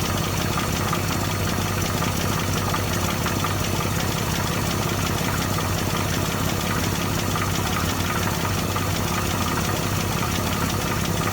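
An engine idling at low RPM just after starting, running as a steady, loud, continuous drone with an even knocking rumble throughout and no voices.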